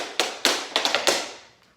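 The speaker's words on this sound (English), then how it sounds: "So, ball change, pull back is option 1." Tap dance shoes strike a hard floor in a ball change and pullback pattern, five or six sharp, bright taps in quick uneven rhythm, close and clear with no talk over them.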